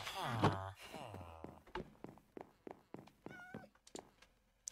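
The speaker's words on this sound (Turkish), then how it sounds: "Evin içine kedi girmiş herhalde ya." Cats meow several times in a Minecraft game, loud and close, followed by a run of quick blocky footstep thunks and small game clicks, with no talking.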